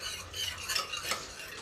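A spoon stirs a chickpea and eggplant curry with curd in a pan, giving soft, close scraping swishes over a faint sizzle for under two seconds, with no talk.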